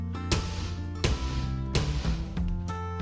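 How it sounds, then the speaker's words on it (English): A hammer strikes a bent metal strip to straighten it aboard a converted navy barge, four sharp ringing metallic blows at uneven intervals with resonant tones hanging between hits. "Should probably also beat that with a hammer and get it straight again."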